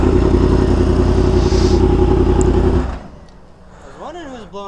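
Loud, close revving from a Yamaha R1M motorcycle's exhaust fills most of the moment as a dense roar, then cuts off abruptly, leaving quieter background sound with a voice speaking near the end.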